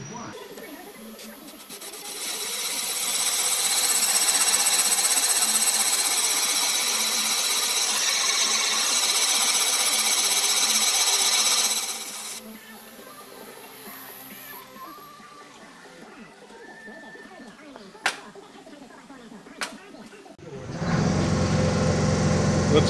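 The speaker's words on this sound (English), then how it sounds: "That's a counterbore cut." Counterbore cutter grinding into an engine valve seat on a 1928 Essex engine, a loud steady whine for about twelve seconds that stops abruptly, followed by quiet workshop clinks and a burst of rumbling noise at the end.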